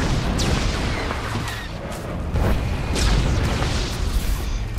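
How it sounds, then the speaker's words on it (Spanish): Dense, rumbling blasts and booms roll on continuously in a Star Wars: The Old Republic Huttball warzone match, with sharp bursts cutting through a thick wall of low noise, like a chaotic battle of explosions. "Mucho fuego. Muchas explosiones."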